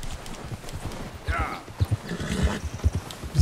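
A horse in Red Dead Redemption 2 clip-clops along with steady hoofbeats and a snort, while someone talks over the sound.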